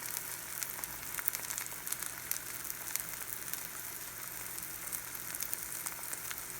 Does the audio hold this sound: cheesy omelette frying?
yes